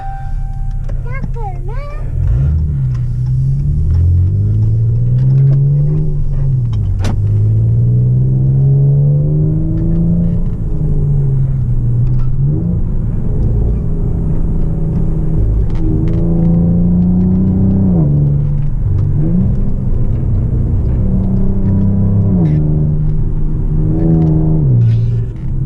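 A car on Eibach lowering springs drives in sport mode with a loud, steady engine drone that rises and falls through revs and gear changes, held close and continuous throughout.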